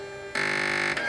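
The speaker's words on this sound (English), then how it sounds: "your machine will start with a short computerized sound like this" Singer Quantum Stylist 9960 computerized sewing machine giving a short electronic startup sound: a steady tone that brightens into a louder buzzy chime after a moment, close and clear.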